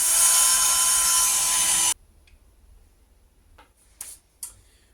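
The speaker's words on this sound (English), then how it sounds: "So this is my biggest drill bit." A power drill spins a large drill bit with a loud, steady, high-pitched whine for about two seconds, then cuts off abruptly; a few faint clicks and short taps follow in near quiet.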